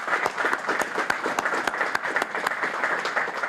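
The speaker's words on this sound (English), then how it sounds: "you deserve another round of applause" A crowd gives sustained applause at a digital inclusion event, many hands clapping in an even, continuous patter with no voices over it.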